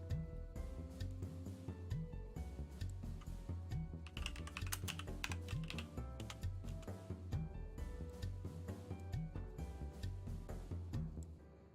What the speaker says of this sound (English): You guys could probably hear me typing.